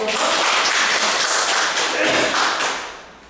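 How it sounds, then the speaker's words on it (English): A group claps in a brief round of applause, fairly close and dense, fading out toward the end. "A round of applause."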